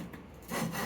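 Wood being beveled by hand, a short, soft scraping rasp against the edge of a board, quiet and close with no voices.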